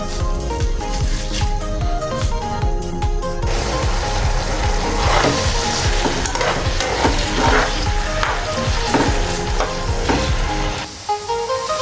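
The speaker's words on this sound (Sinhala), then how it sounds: "දැන් අපි තැටියට බටර් මේස හැඳි දෙකක් දාලා මැරිනේට් වෙලා තිබ්බ චිකන් එක ඒකට දාලා ෆ්‍රයි කරගමු" Marinated chicken pieces frying in butter in a pan make a loud, continuous sizzle with rhythmic scraping and clattering of stirring, heard close up and alone without speech.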